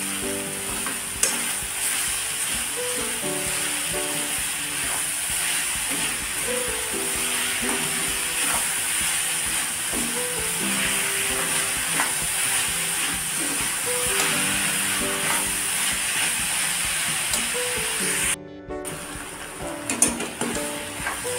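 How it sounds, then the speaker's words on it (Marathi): Jaggery filling for Maharashtrian modak is stirred and sautéed in a pan, giving a loud continuous bubbling sizzle with repeated spatula scrapes throughout, briefly interrupted near the end. "त्याच्यामध्ये गूळ टाकून घ्यायचा। हे आता चांगलं परतून घ्यायचं।"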